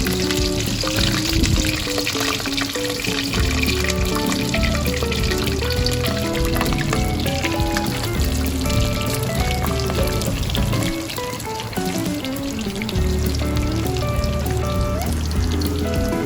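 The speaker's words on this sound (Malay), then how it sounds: "Kita goreng ayam mas hingga masak keperangan." Continuous sizzling and crackling of chicken deep-frying in hot oil, a dense bubbling hiss that carries on steadily throughout.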